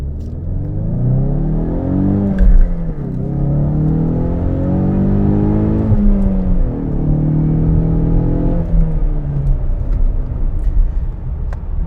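A 2020 Ford Mustang EcoBoost 4-cylinder engine revving up and down repeatedly, loud and close, with rising and falling sweeps over a steady rumble.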